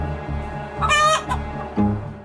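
Chickens cluck in the video game Evering, a few sharp bursts over a steady looping game soundtrack, with no talking.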